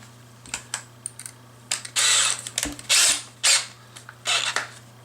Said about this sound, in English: The best way to do this is you want to drill the first hole, tighten the screw down, and then drill the other holes subsequently after that.